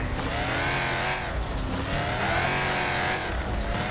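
A race car in the Wreckfest video game roars at high revs through a handbrake skid, the tires squealing and sliding under a loud, continuous engine drone, close up with no voice.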